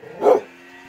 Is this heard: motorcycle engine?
no